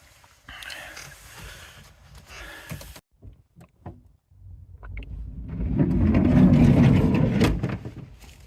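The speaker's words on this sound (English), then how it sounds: "within a minute there was a car reversing up and it's just driven off" A car reverses up and drives off outside at night near a forest, its engine swelling from a low rumble to a loud, close roar before easing away, after a stretch of quieter thumps and clicks.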